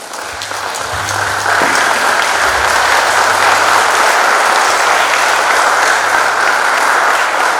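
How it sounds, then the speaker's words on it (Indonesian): Loud, sustained applause from a large crowd at a high school graduation ceremony in Jakarta, steady clapping filling the room with a low hum underneath. "berikan tepuk tangan untuk mereka"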